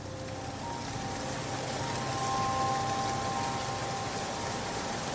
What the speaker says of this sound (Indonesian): Dan tak lama kemudian hujan deras pun turun.